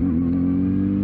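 A motorcycle engine holds a steady, loud drone while being ridden, with no talk over it.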